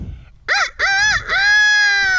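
A person vocally imitates a rooster, two short clipped calls followed by a long drawn-out crowing note, loud and close with no other sounds around.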